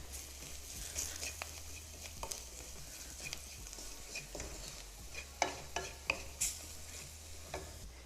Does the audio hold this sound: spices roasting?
yes